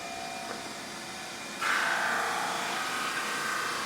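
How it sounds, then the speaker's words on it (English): Wood being sanded in a woodshop: a quiet steady hum, then a louder abrasive hiss of sanding starts partway through and continues to the end. "This is the last time I'm sanding these on this side."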